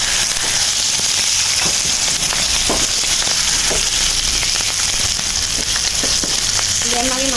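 Chicken devil fries loudly in a pan as chili powder goes in, a dense, constant hissing sizzle with scattered crackles and pops, close and unbroken.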